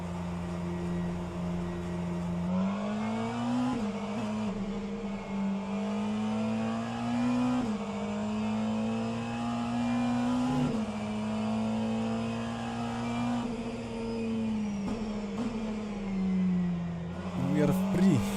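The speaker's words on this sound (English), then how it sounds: "Here comes the Porsche." A Porsche race car in a sim racing endurance event at Sebring drones steadily close by, its engine note holding and rising with brief shifts, while a voice talks over it.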